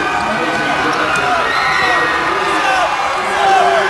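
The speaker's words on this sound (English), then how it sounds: "Let's hear the reaction from the Bulldog crowd now as their two seniors will head towards the bench." A high school boys' basketball semifinal crowd of Bulldog fans cheers and whoops in a gym, a loud, continuous roar with scattered shouts as seniors leave the court, under a commentator talking.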